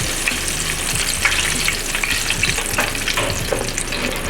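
A bloomin' onion deep-frying in hot oil, with a steady, dense sizzle and bubbling crackle running continuously at close range, no voices over it.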